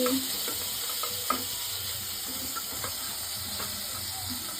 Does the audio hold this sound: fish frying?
yes